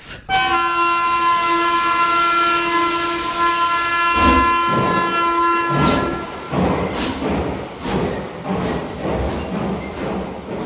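Balurghat Express passenger train in India, a loud sustained horn blast opening over rolling rail noise, followed by rhythmic wheel thumps and clatter as the train moves, close and continuous.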